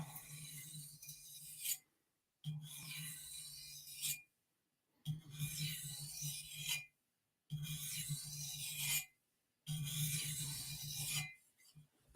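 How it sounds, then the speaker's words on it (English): Blade drawn across a fine sharpening stone in four separate bursts of dry, rasping strokes, each lasting about two seconds and divided by brief silences, close and moderately quiet with no talk. "we'll just go over to this fine stone because this thing will remove enough material for a quick sharpening anyway"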